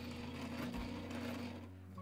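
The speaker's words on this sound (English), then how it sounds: "slowly press down our pedal to sew a few stitches" A domestic sewing machine stitches slowly as its foot pedal is pressed, giving a steady mechanical whir with a fine rhythmic needle patter that runs continuously at moderate level, with no talking.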